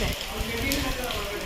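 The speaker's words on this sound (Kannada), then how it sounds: "ಫುಲ್ ಮಳೆ ಬರ್ತಾ ಇದೆ" Heavy rain pours at Talakaveri in a dense, steady hiss and patter close by, filling the whole moment without a break.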